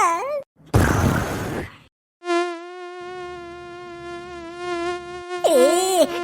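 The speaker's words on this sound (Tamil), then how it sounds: "அடடடடா கொசுக தொல்லை தாங்க முடியலையே" A mosquito in a Tamil cartoon whines with a steady, high, buzzing drone that holds for several seconds, following short cartoon voice sounds and a burst of noise.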